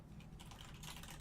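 Typing on a computer keyboard, a quick run of faint, close clicking keystrokes in an irregular rhythm, heard alone with no speech.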